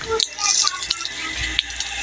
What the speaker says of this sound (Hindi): अभी मैं पौधों को पानी लगा रही हूँ।